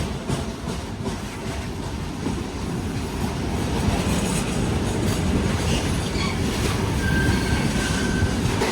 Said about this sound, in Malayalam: BCNA എന്നാണ് ഈ ഒരു ഗുഡ്സിൻ്റെ പേര്. ഈ വാഗൻ്റെ പേരാണ് BCNA.